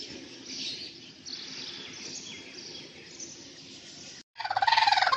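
A brooding hen clucks nearby, with soft intermittent calls over faint background chirping, ending in a louder burst of rapid rhythmic clucks.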